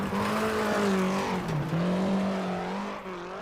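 A Lancia rally car in the video game WRC 8 roars through shifting engine revs while its tires squeal and skid, loud and close throughout, with no one speaking.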